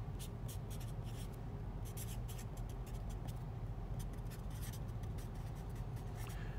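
A pen scratches and taps across paper while sketching a gradient vector on a level-curve diagram, a run of short close strokes in an irregular rhythm over a low, faint background hum.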